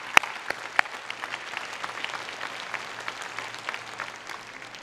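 Audience at a Muskegon Community College commencement ceremony applauding the graduation speakers, a dense, even patter of many hands in a large hall with a couple of sharp close claps at the start.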